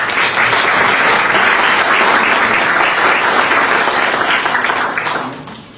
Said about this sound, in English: Our nurses deserve a nice round of applause for their work in their food allergy awareness program.